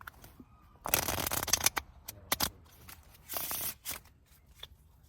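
Cards are shuffled in several quick, crisp bursts of riffling and snapping, close up and otherwise quiet.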